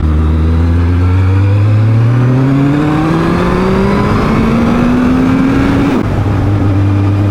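A Kawasaki Z1000 motorcycle engine revs up steadily under throttle during a test ride, its pitch climbing smoothly for about six seconds before a brief shift and continued loud, close drone.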